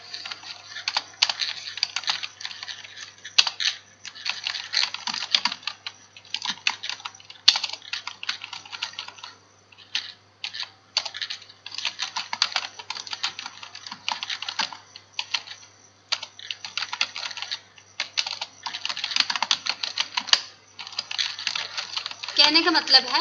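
Steady keyboard typing on a computer while working in LibreOffice Impress, close and continuous in quick bursts with short pauses, no talking over it.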